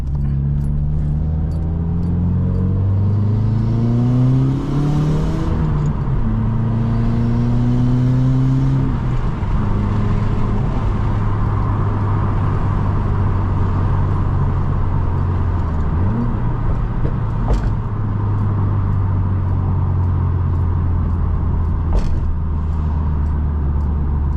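A modified Subaru WRX drives hard, its engine note climbing and dropping through repeated accelerations and gear changes, loud and steady throughout with no talking.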